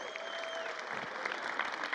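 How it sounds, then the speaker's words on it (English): Quiet but steady clapping from a crowd in a school hall at a spring signing day ceremony, continuous and even, with faint background murmur. "Let's give him a round of applause again"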